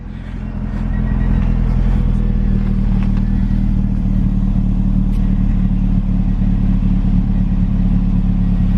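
A Honda Integra DB1 with a turbocharged B20 VTEC engine revs hard through a junkyard exhaust with resonator, deep and rumbling, building up quickly and then holding a loud, steady roar with a rattly edge.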